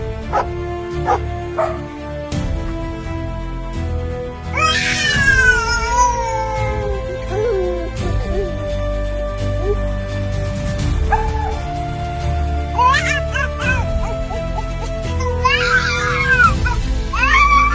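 A dog barks and yips alongside loud meowing and caterwauling cats in an AI-generated clip of a baby playing with fire being saved by a dog, with close, overlapping animal cries and a faint voice underneath.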